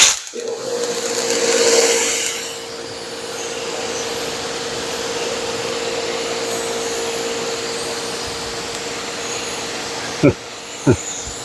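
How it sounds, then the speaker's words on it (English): Water sprays steadily from a pressure washer or hose, rinsing ceramic car wash off a car. A constant hiss runs throughout with a tonal hum, and two sharp knocks near the end. "Now let's rinse that off and see how the hydrophobics look."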